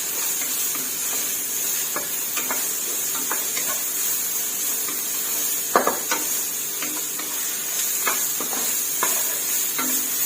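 Minced pork stir-fried in a pan for a flat rice noodle gravy dish, giving a steady hiss of sizzling under repeated light spatula scrapes and clicks, with one louder knock near the middle.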